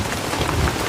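Steady rain falls through the night at a flood relief camp after flooding, a dense, even hiss of drops on surfaces filling the short moment with no voices.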